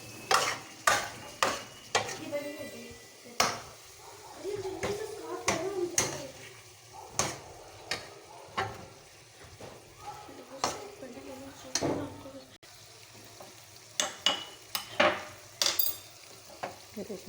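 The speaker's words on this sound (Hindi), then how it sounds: "अब बन रहा है खाना, तो बुनाई कर रही है। कीमा आलू तैयार होने वाला है" Keema aloo stirring and frying in a pan: a spoon repeatedly scrapes and knocks against the pan over a soft sizzle, in an irregular rhythm of sharp clicks close by.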